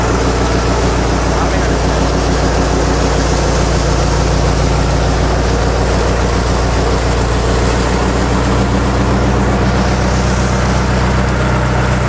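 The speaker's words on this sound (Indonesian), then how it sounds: "ini pengujian mesin Matani PM500 dengan bahan jagung" A Maktani PM500 grinding mill runs steadily while milling corn, a loud continuous mechanical drone with a heavy low rumble that holds constant throughout, with no pauses.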